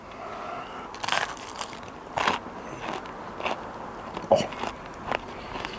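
Crunchy, crispy roasted belly pork bitten and chewed close up, several sharp crackling crunches spaced over a few seconds against a quiet background.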